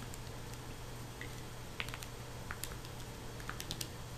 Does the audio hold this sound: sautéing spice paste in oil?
no